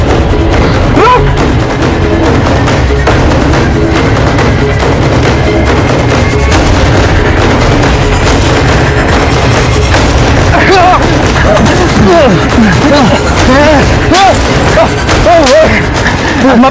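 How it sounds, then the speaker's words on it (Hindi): Loud, sustained bursts of gunfire in a Hindi crime drama scene, with booming shots and overlapping shouts and dialogue throughout. "अम्मा पे गोली चलाता है कभी"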